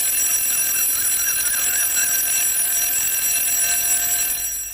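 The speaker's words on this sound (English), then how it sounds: "your daughter has set an alarm for the street or her own self" A bedside alarm clock rings steadily at home at night, a loud, continuous electronic trill that holds for several seconds without pause.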